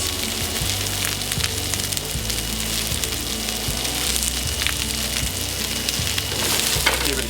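Shallots sizzling in a hot pan alongside Brussels sprouts, a dense continuous crackle and hiss that holds steady and close, with a regular low knocking underneath and a faint voice now and then.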